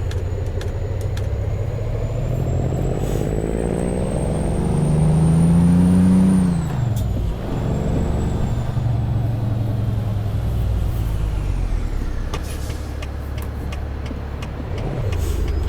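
A Peterbilt 389 in American Truck Simulator idles with a loud low diesel rumble, a rising whine and a brief hiss as its air brakes release mid-way, then the engine settles into a steady drone.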